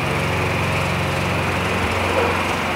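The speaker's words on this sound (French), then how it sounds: "maintenant qu'il a mis sa tondeuse en route" A petrol lawn mower running nearby, a steady loud engine drone that holds unchanged throughout with no voices over it.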